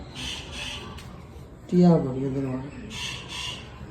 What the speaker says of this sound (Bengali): কি পাখিটা ডাকছে রে তো ক্যাঁ ক্যাঁ করে